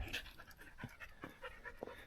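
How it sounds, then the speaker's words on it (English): Dogs pant in quick, breathy bursts outdoors on a foggy high-desert canyon rim, fairly close and soft, with a faint whimper mixed in and no talking. "and some crazy dogs"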